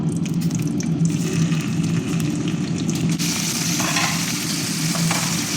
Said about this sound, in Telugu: కాకరకాయలు ఏవైతే ఉన్నాయో ముందు కొంచెం ఫ్రై చేసుకోవాలి ఎక్కువ నూనె అవసరం లేదు